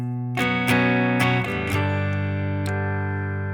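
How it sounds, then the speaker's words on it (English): Distorted electric guitar chords strike several times in quick succession, then one sustained chord rings out loudly with a thick, buzzing tone. "So I'm shifting over to a distorted tone."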